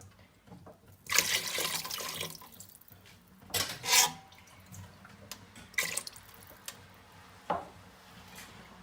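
Water is poured from a mug into a pot of rice and fried masala in several bursts, splashing and gurgling up close with short pauses between pours, no voices heard.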